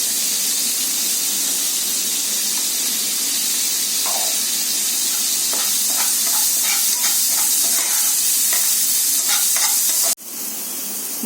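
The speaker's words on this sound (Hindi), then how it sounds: "मैं चॉप्ड अनियंस डाल रही हूँ।" Chopped onions frying in a hot pan give a steady, close sizzle with bursts of crackle and scraping as they are stirred, ending in a sharp knock near the end; no one talks.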